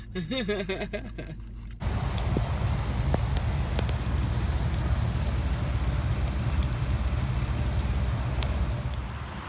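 Rain falls steadily at a South Carolina rest stop on a wet morning, a dense, close hiss of drops on surfaces that sets in after a brief stretch of low voiced sound and continues evenly throughout.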